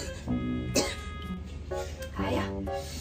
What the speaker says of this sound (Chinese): 让我静静咳嗽一下